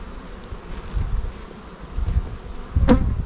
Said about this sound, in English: Pollen, lots of bees.